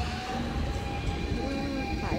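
A commuter train rolls into the platform with a steady rumble and faint metallic squeals, people talking nearby over the station noise.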